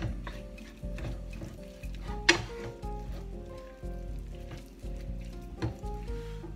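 Onions fry in a pan with a quiet, steady sizzle, punctuated by ticks and clinks of a utensil and one sharp clatter.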